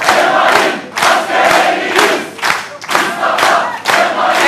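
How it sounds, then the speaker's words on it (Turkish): A hall audience in Didim chanting a patriotic slogan in unison, loud rhythmic group shouts repeating in waves with brief dips between phrases, no other voices on top. "Didim'de salonumuzda Mustafa Kemal'in askerleriyiz sloganı yükseliyor"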